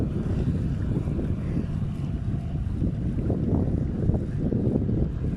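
Heavy wind at a trout-fishing spot at Keban, Turkey, rushes and rumbles against the microphone without letup, a dense low roar throughout.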